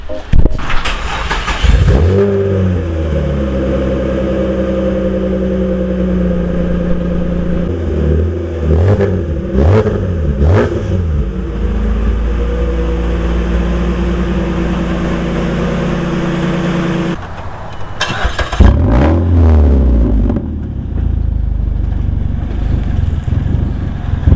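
A car engine cranks, fires and revs several times in a garage, then settles into a steady idle, with another rev burst later on; loud and close, no talk.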